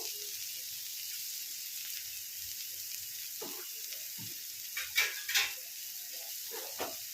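Chopped tomato tipped into a hot frying pan for paneer bhurji gives a steady, bright sizzle, with a few clatters of the pan and spatula and brief soft voice sounds over it.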